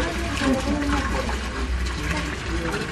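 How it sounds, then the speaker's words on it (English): Chibuku beer being poured in Zambia, a steady close liquid gurgle and splash running continuously, with a busy, noisy background and possible faint voices. "pouring the beer"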